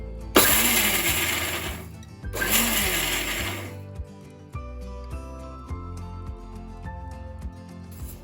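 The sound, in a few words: mixer grinder coarsely grinding green chillies without water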